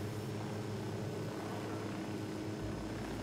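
A helicopter in the video game Ghost Recon Wildlands gives a steady, dense rotor and engine drone that stays loud and constant throughout, with no talk over it.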